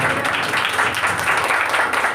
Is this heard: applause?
yes